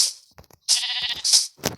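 Two sheep bleats in the video game Craftsman, the first a long wavering cry and the second shorter and sharper, with soft clicks before and a brief rustle after.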